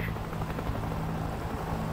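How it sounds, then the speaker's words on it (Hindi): A helicopter in the World War Z Aftermath video game drones with a steady, close, loud rotor roar throughout. "इसका हेलीकॉप्टर"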